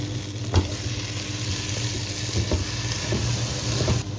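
Bullet okra fry with kasuri methi sizzles steadily in a pan while a spoon stirs and scrapes through it in a few distinct knocks, close and alone.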